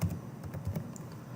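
Quick clicking keystrokes on a computer keyboard as a number is entered into a field, a brief close burst of several taps in an uneven rhythm.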